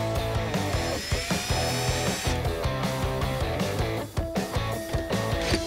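Power tool whirring in short repeated bursts as it backs out the inside taillight screws on a Jeep Wrangler JK, close and loud with busy mechanical rattling.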